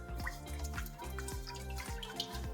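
Water is poured into a mixing bowl for pizza dough, a close gurgling stream with rhythmic glugging pulses and rising pitch as the bowl fills, no talk over it.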